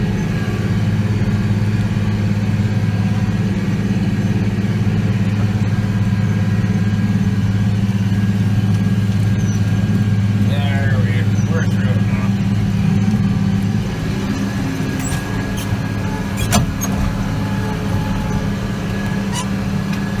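A tractor engine drones loud and steady while discing a field, its tires spinning, with a low constant rumble throughout and faint squeaks and clanks toward the end.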